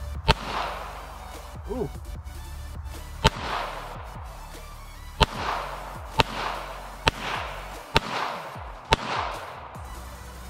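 Pistol shots at a shooting range, about seven sharp loud cracks at uneven intervals of one to two seconds, each followed by a short echoing tail, with a brief exclamation from a person between them.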